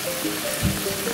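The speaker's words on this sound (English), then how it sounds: "Rain, hail, and thunderstorms, pretty heavy." Heavy rain, part of a spell of hail and thunderstorms, pours outside a garden in a dense, steady hiss, with no talking.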